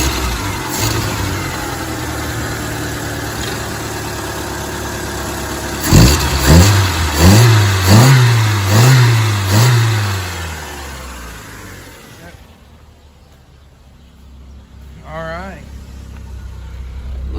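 A 1999 Saturn SC1 with a SOHC engine, recently fixed after a bad fuel pump and lean problem, runs at idle, then gets revved in a quick series of rising and falling pulls, before settling back; someone talks over parts of it.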